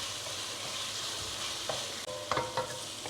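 Buffalo liver frying in a pan for a Kerala-style liver fry, a low steady sizzle with a few clinks and scrapes of stirring near the end.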